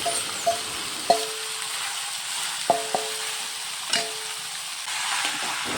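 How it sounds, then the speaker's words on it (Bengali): Spice-coated meat sizzles steadily in a hot wok, with several sharp metallic clinks of a spoon against the pan spaced through the frying. "এখন মশলা সহ মেখে রাখা মাংসটাও কড়াইতে দিয়ে দিলাম।"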